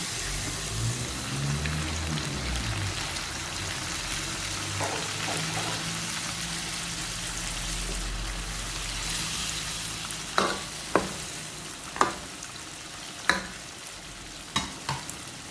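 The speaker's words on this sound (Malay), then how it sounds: "baru atuk masukkan kentang dan ayam" Potatoes and chicken sizzle in a pan for chicken curry, a steady frying hiss with a few sharp clinks of stirring near the end.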